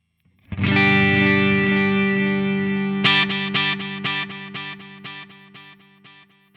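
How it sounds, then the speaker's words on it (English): A distorted electric guitar chord rings out, then a second strike sets off rhythmic echoing repeats from a Boss SDE-3000D dual digital delay, panning left to right, pulsing and slowly fading. "you can currently hear that is panning from left to right"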